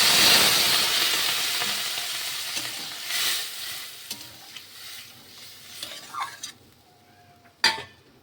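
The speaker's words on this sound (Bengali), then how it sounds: "এবার আমি পরিমাণ মতন জল দিয়ে দেবো।" Water splashing into a hot frying pan sets off a loud, spreading sizzle that gradually dies down, broken by scraping stir strokes and a few metallic clinks near the end.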